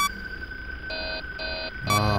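Electronic error alarm from the horror video game Five Nights at Freddy's 3, sounding as repeated short tonal beeps in a steady on-off pattern over a constant high tone, ending in a louder burst.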